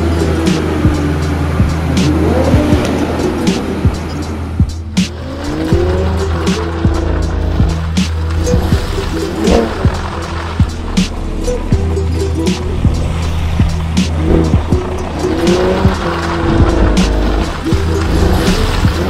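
A Toyota GR Supra 3.0T on the road, its engine droning loudly and steadily with road and tire noise throughout, with no talking.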